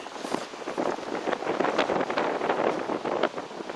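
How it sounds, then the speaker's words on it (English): Gusty outdoor wind buffets the microphone continuously, a loud rumbling roar at a metal-detecting dig site with no speech over it. "Sorry about the wind, guys."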